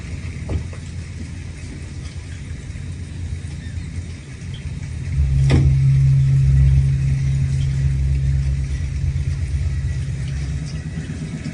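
A car drives along a rough road through a forest, its engine rumbling steadily and swelling louder midway as it labours on, with a broad low drone throughout and no talking.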